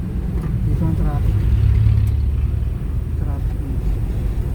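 Road traffic on the route from Antipolo to Montalban via upper San Mateo, a steady low engine rumble of passing cars under continuous conversation, with no clear individual pass-bys.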